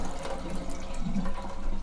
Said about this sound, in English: you need to wash it until the water is not white